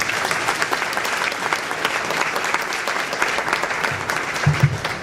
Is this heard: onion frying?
no